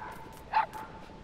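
A single short yip from a puppy in Metal Gear Solid V, close and clear above a quiet, steady in-game background.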